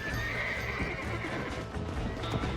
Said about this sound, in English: The horses are going crazy.